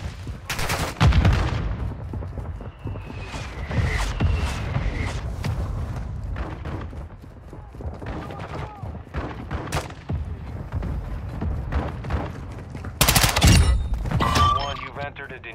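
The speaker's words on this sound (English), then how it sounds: "Friendly mortar strike on the way." Friendly mortar strike in the video game Call of Duty DMZ: a series of heavy booming explosions and gunfire bursts spread over several seconds, loud and close, with players talking over the blasts.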